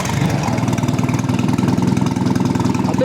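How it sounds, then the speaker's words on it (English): An old Citroen engine, just rebuilt, runs at a steady idle with a fast, even chugging pulse throughout. It sounds close and loud, with no talking. "So let's try it out and see how easy it starts or not."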